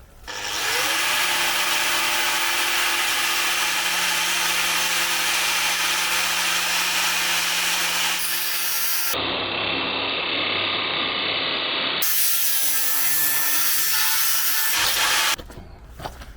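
Bosch GWS 17-125 angle grinder cutting with its guard removed: a loud, close, continuous high-pitched grinding whine that runs for long stretches, broken by a few short pauses and shifts in load.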